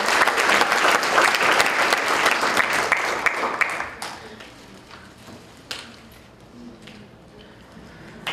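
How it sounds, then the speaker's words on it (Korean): An audience applauds at the 2012 KNI paper contest award ceremony: dense, loud clapping for about four seconds, then it thins quickly to scattered, fading claps. "큰 박수 부탁드립니다."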